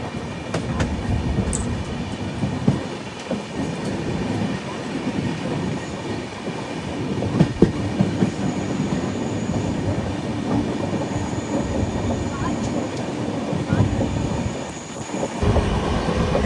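The Prashanti Express passenger train, No. 18464, rolls steadily along Indian rails between Bangalore and Bhubaneswar, a loud continuous rumble with faint clicking of wheels over joints, heard from aboard the coach.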